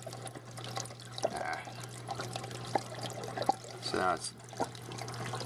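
Water flows and trickles through an aquarium algae scrubber with its drain fully open, a steady liquid wash with gurgling bursts over a constant low hum, while a person speaks briefly.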